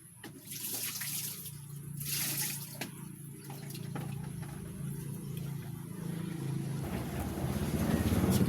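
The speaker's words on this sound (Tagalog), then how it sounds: "magpakulo po tayo ng tubig" Water pours and rushes steadily into a cooking pot to be boiled, a continuous close splashing flow that swells louder toward the end, with no talk.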